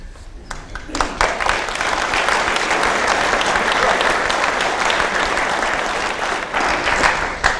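An audience at a sailors' talk series on the Volvo Ocean Race breaks into loud, sustained applause that builds quickly and stays full for several seconds, with a voice briefly audible underneath.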